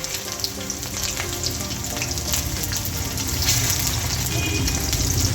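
Cauliflower florets deep frying in hot oil for chilli cauliflower, a loud continuous bubbling sizzle that swells slightly toward the end, close and unbroken, with no voices.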